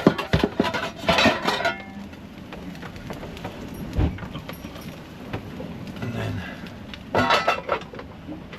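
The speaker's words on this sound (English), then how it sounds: "Frying pan on, lid on." An oblong frying pan and its lid go onto a gimballed cooker aboard a boat crossing the Atlantic, making a few close metallic clatters and one dull knock over a steady, rain-like hiss.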